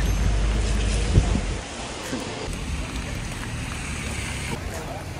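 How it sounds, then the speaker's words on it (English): Rain falling outdoors with wind noise across a street or town area, a steady broadband wash under the scene, with a brief loud knock near the start. "Still raining."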